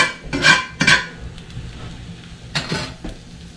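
Eggs flipped over in a pan with a spatula, giving a few quick scraping clinks of metal on the pan in two pairs of bursts, over a faint sizzle with the heat turned off.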